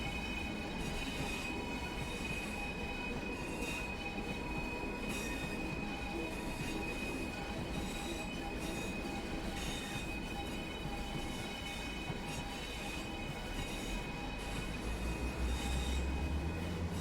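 Train Sim World 4 Pacer train wheels squeal in snow, a sustained high metallic screech over the steady rumble and clatter of rail travel, lasting throughout.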